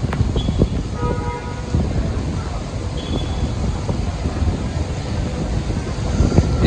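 Strong wind during heavy rain outside a mall in Colombo, Sri Lanka, a steady rough roar buffeting the microphone throughout with a dense rumbling wash underneath.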